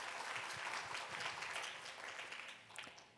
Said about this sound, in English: Why don't we give a big round of applause